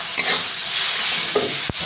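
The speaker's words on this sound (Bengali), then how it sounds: "মশলাটাকে একটু কষিয়ে নেবো" Chili powder, turmeric and spices sauté in a pan with a close, steady sizzle, a couple of brief stirring scrapes and one sharp utensil knock near the end.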